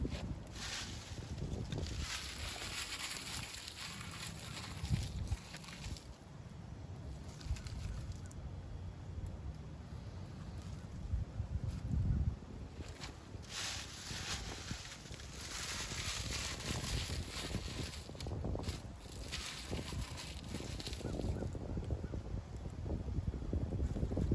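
Steady, heavy wind gusting and buffeting the microphone throughout, a constant roaring rush with occasional stronger bursts.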